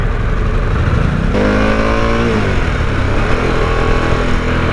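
A Harley-Davidson Pan America motorcycle engine roars loud and close, holding a steady throttle before revving up with a rising whine, then settling back into a constant heavy drone with no talk.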